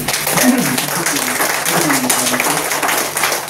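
An audience at a Bengali magazine's 30th anniversary event applauds in a steady clapping texture while someone speaks over it.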